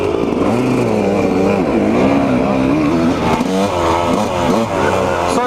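A two-stroke 125cc dirt bike ridden through sand, its engine loud and close, revving and pitching up and down without a break across the whole stretch.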